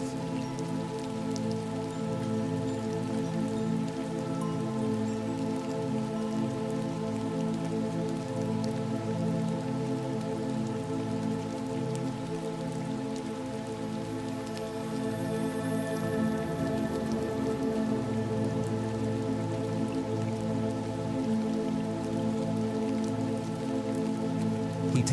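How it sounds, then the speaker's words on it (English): Steady rain falls continuously on a surface, a soft, even patter that stays unchanged for the whole stretch with no voices. "The rain will keep you company tonight"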